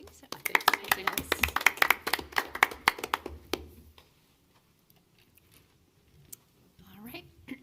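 A small audience at a city parks and recreation commission meeting claps for about four seconds, close and crisp with individual hand claps audible, then fades to near silence with a faint voice near the end.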